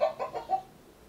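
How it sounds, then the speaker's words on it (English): A smart speaker plays a recorded chicken clucking, three or four quick, nasal clucks in a short run before trailing off into quiet. "Here's a chicken cluck."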